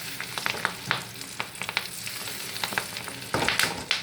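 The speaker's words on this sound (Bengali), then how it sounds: "ফটফট ফটফট করে ফাটছে একদম মাছের ডিমগুলো" Fish roe frying in a pan for curry, popping and spattering in sharp irregular bursts over a steady sizzle, loud and close with no voices.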